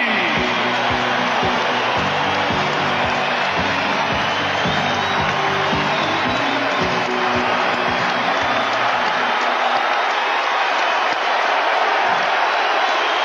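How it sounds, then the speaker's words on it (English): Capacity arena crowd roaring, cheering and chanting for Muhammad Ali at an NBA event, a loud dense continuous wall of voices with rhythmic pulses of chanting through the early part, sustained throughout. "the chant from this capacity crowd for Muhammad Ali is reminiscent of his emotional appearance at the Atlanta Olympic Games"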